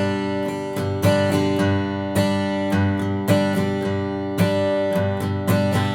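Steady acoustic guitar strumming in a repeating rhythmic pattern, bright and close, with regular accented strokes and no voices.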